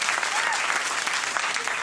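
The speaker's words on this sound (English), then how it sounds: "It's nice to get applause breaks for your work like that." A late-night talk show studio audience bursts into a dense, steady round of applause that holds evenly at full strength from start to finish, with no pauses or talk.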